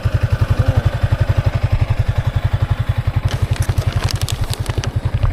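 A motorcycle engine runs steadily nearby with a fast, even low-pitched putter, joined by a few clicks and clatters toward the end.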